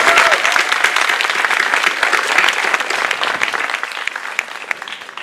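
Audience applause at the opening ceremony of the Dakar international short film festival, a dense, steady round of clapping from a crowd that holds strong throughout and eases only slightly at the end.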